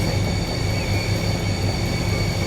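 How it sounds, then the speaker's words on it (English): A steady rumbling train in Transport Fever 2, continuous low rolling rail noise with a faint high whine, close and unbroken. "we are now racing a train"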